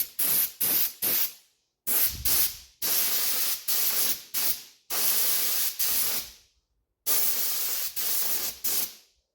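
Repeated short bursts of aerosol spray paint applying a second coat to parts of a 1971 Honda CD175 motorcycle, close and loud, each hiss lasting about a second with brief pauses between.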